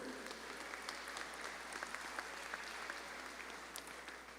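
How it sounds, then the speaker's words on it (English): An audience at a high school graduation ceremony claps continuously. The sustained applause is fairly faint and distant, with no talk over it. "let's give a round of applause"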